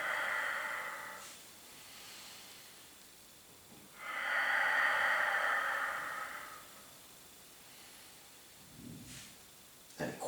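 Slow, audible breaths during a Pilates leg-crossing exercise: a long hissing inhale, a pause, then a long hissing exhale, close to the ear with no talking, and a faint soft thud near the end.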